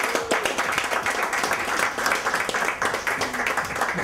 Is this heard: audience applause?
yes